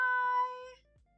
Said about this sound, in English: She is the youngest cat in the house.